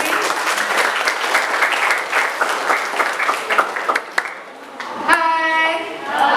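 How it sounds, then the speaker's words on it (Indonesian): A school crowd applauds a speaker at an Indonesian school outreach event, a burst of many hands clapping that thins out toward the end before a brief voice and a ringing microphone tone. "Tepuk tangan dulu buat Pak Agus Fikri."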